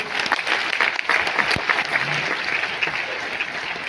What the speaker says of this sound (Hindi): एक बार जोरदार तालियां राजेश मोदी जी के लिए।